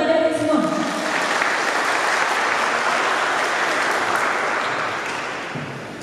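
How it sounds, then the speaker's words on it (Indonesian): An audience at an educational visit to the Semarang police academy bursts into sustained applause just after a brief spoken line, a dense, loud, even roar of many hands that tapers off near the end. "Berikan tepuk tangan dari semua."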